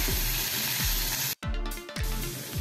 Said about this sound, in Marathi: एक छोटासा टोमॅटो घातला आहे बारीक चिरून, तो पण थोडासा आपण असा परतून घेऊया